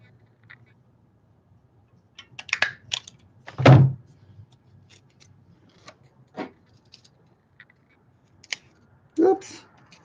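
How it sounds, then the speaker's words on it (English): A staple gun punches through a folded paper origami triangle box in a few sharp, separate clacks, with one loud snap standing out among lighter clicks and handling noises, close up and without talk. "I use the staple gun"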